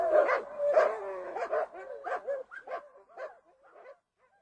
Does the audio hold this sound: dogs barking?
yes